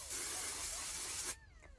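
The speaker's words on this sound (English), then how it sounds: "A little bit of dry shampoo." An aerosol can of dry shampoo sprays in one continuous, close hiss lasting just over a second as a wedding-day makeup finish is set, then cuts off abruptly.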